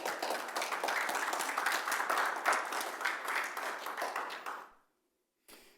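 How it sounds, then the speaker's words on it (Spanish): Sustained applause and clapping from a church congregation during a Sunday service, loud and steady for nearly five seconds, then cutting off into silence before a faint sound returns at the end. "Dale un aplauso al Señor."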